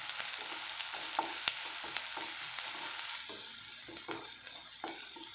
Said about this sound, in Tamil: எண்ணெய் நல்லா காஞ்சிருச்சு, வெங்காயம் போட்டுக்கிறேன்.